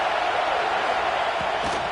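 Steady roar of a stadium crowd during a simulated college football game between Wisconsin and Oregon, a dense continuous wash of distant cheering with no distinct voices standing out.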